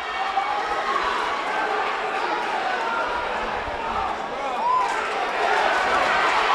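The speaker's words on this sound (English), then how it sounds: "Crowd in Melrose going insane." A packed crowd at a boxing match in Melrose roars continuously, a thick wall of cheering and shouting that swells toward the end, with an excited announcer talking over it.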